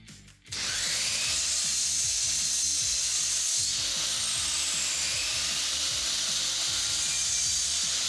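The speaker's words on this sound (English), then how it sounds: "get them glued and clamped into place" Oak strips planed to 19mm are glued and clamped onto a wooden cabinet body, with a steady, loud mechanical grinding and ratcheting texture that runs almost the whole time after a brief quiet start.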